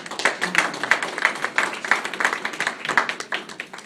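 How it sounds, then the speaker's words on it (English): A meeting audience claps for Ruth: steady, moderately close applause from a modest crowd with a regular patter of hand claps throughout. "please give a big hand to Ruth"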